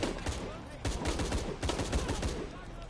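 Rapid gunfire from Shadow of the Tomb Raider, with clustered bursts of sharp shots in quick succession, loud and close, and faint voices in the background.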